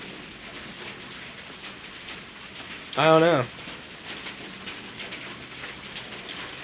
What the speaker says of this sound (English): sitting out here, just listening to the fucking rain